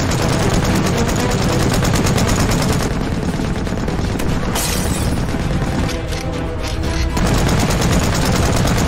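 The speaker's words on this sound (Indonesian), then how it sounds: "2 prajurit senapan mesin terus menembak dengan membabi buta dari samping" Loud, dense machine gun fire rattles without pause in a war film battle scene, two Soviet soldiers firing blindly from a trench flank against attacking Nazi troops, mixed with explosions and crashing noise.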